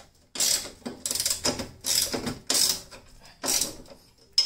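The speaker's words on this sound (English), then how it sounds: "I'm just tightening these up." A ratchet clicks in short bursts while tightening the hood lock bolts on a Jeep TJ in a garage, five or six close, crisp runs of rapid pawl clicks separated by quiet pauses.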